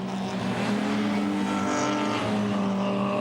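BMW E30 race cars roar past on the Manfield circuit, a loud sustained engine howl with shifting pitch as the cars run close by.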